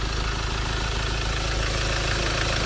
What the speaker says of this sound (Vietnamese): Máy số zin nổ rất êm